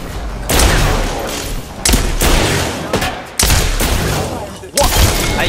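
Shotgun blasts in Apex Legends going off in several loud bursts, each a sharp report with a ringing tail, spaced about a second or more apart amid busy in-game combat noise.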